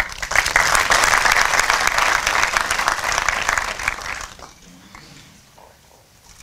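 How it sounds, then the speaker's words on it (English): An evening honoree event audience breaks into dense, loud applause for about four seconds, then it fades quickly to scattered claps and quiet room noise. "give yourself a round of applause"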